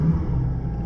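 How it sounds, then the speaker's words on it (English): A Mitsubishi Galant VR4 engine idling just after a cold start, a steady low rumble close by with no talk over it. "I just started the car, so it's cool."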